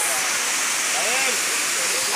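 Rushing water of the Cola de Caballo waterfall in Santiago, Nuevo León, a constant broad hiss filling the clip, with a voice talking faintly over it.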